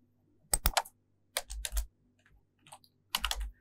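Java code being typed on a computer keyboard, with quick bursts of clattering keystrokes separated by short pauses, close and clear with no talking.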